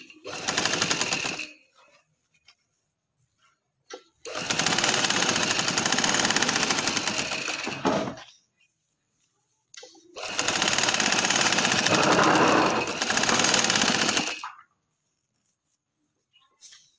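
A sewing machine stitches a frill pillow cover in three long, steady runs of rapid needle clatter, each lasting several seconds and separated by pauses of near silence.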